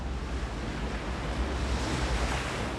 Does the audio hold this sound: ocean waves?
yes